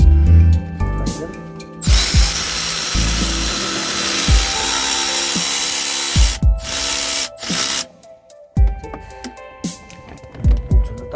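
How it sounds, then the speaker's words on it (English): Alternator bolts on a 2002 Toyota Hiace are tightened with a ratchet, giving close, rapid clicking bursts separated by short pauses, with a loud hissing broadband noise in between. "I'm gonna tighten the bolts on the top and then underneath."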